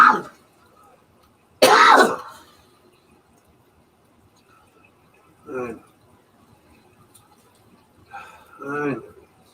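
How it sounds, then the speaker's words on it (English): Coughing and throat clearing in a quiet room: a sharp throat clear at the start, a louder harsh cough burst near two seconds, then two softer coughs spaced apart later. "I really don't like coughing."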